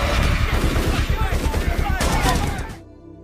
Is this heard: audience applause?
no